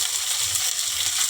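Onion frying in a pan, a steady bright hiss and sizzle of oil close by, continuous and even with no talking.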